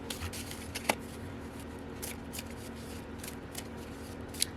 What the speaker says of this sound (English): So I'm going to pull some more cards for you.